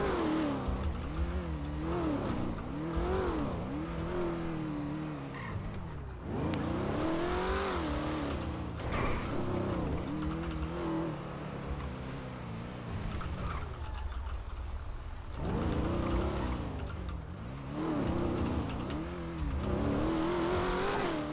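A car driving on the way to a repair shop, its engine note steadily rising and falling through repeated accelerations, close and continuous for the whole stretch with no talk over it.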